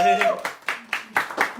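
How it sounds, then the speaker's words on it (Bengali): A small group claps in an uneven rhythm at a birthday celebration, with a voice talking over the claps. "একটা তালি দেন সবাই"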